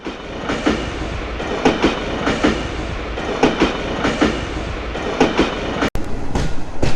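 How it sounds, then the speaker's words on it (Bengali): A passenger train running out of Bhairab station toward Kishoreganj, with a steady rolling rumble and regular clickety-clack wheel beats over rail joints, close and continuous with no voices. "আমাদের ট্রেন ছেড়ে দিয়েছে ভৈরব স্টেশন থেকে"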